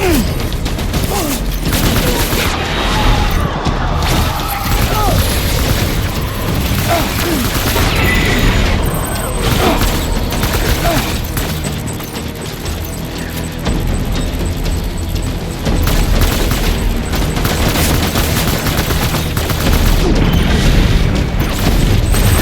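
Sustained video-game gunfire and explosions in Death Stranding, dense bursts and booms filling the mix continuously at close range with a busy combat backdrop.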